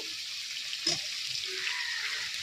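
Chopped tomatoes go into okra frying in a pan with a little water, giving a steady close sizzle and hiss with a brief soft thud as they drop in.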